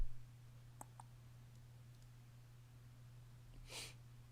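A computer mouse clicks a few times, small faint taps close by against a low steady hum, followed by a brief soft breathy rustle.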